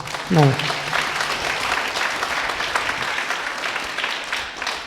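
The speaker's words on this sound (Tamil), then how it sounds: "நல்ல ஜோராக கைத்தட்டலாம்" A church congregation claps for the sisters and organisers at a Sunday Mass at St. Thomas Church, Avinashi, a steady mass of applause following a brief voice at the start and carrying evenly to the end.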